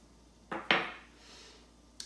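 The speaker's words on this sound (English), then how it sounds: "You want to prick it with a fork on both sides so that it doesn't rise at all." A fork pricks both sides of flattened bread dough in a home kitchen, giving two quick clattering taps close by, then a brief pause and another light tap in an otherwise quiet room.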